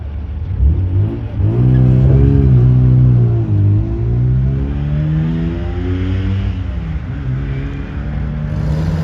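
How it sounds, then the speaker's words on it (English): An MGB sports car pulls away at the Prescott hill climb, its engine revving loud and close through rising, falling gear changes before easing off as it draws away. "Got the MGB back on the line"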